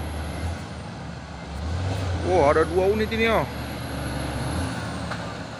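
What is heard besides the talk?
truck engine with air brakes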